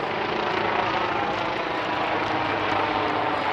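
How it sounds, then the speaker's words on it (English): A helicopter passes overhead at a cricket match in Rome, its broad, steady rotor and engine roar filling the whole stretch loudly and continuously with no break. "The umpire's just got a helicopter going on above."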